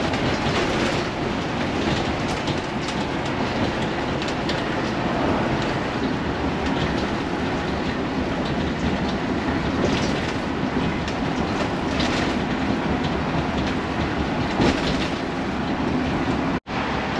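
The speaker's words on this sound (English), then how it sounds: "all the beautiful sounds of driving a motorhome" Class A motorhome driving on a highway from California to Nevada, with a continuous loud interior roar of road and engine noise, steady rattling and clattering of the cabin throughout, close and without talk.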